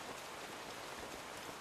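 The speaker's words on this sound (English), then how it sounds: "It's going to keep drizzling." Light rain drizzles in a faint, even hiss of soft patter that runs steadily throughout, with no other sounds.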